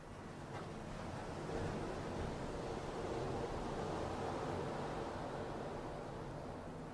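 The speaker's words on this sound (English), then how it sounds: "here we are, listening to Mother Ocean together." Steady roar of Pacific Ocean surf at Santa Cruz, California, with waves washing continuously, mixed with some wind rumble, no voices.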